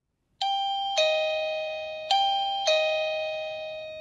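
A Toucan Wireless Video Doorbell 2022 chime rings after its button is pressed: two bright ding-dong chimes, each with two clear bell-like strikes that ring on and decay slowly, loud and close, with no talking.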